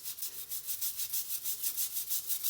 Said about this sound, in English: I'm going to go ahead and just start scrubbing